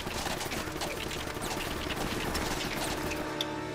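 Dense, continuous gunfire from the video game Uncharted: Drake's Fortune, with overlapping rapid shots and bursts forming a loud, sustained barrage throughout.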